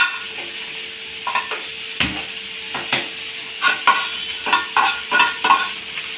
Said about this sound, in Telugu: ఒక్క చుక్క ఆయిల్ వేసుకొని ఇవి కూడా మనం లైట్గా ఫ్రై చేసుకోవాలి